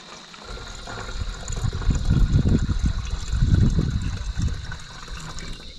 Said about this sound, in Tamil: இப்போ அந்த டேங்கோட மூடியை கழட்டிட்டு பார்த்தீங்கன்னா வந்து அறதுக்கு பார்த்தீங்கன்னா வந்து தண்ணி வந்து ஊற்றிக்கிடுவோம்.